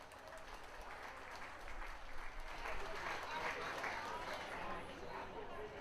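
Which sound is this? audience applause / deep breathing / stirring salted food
audience applause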